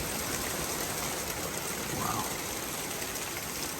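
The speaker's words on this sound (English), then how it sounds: "Thunder, lightning," Rain, with hail, falling during a thunderstorm: a dense, steady hiss of broadband noise with no breaks, loud and close throughout.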